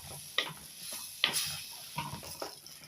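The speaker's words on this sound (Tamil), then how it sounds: "சுண்டைக்காய் சேர்த்துட்டு எண்ணெயிலே அதுவும் வதங்கினாங்க." Turkey berries sautéing in oil in a pan as they are stirred, a soft, steady sizzle broken by light scraping taps at irregular moments.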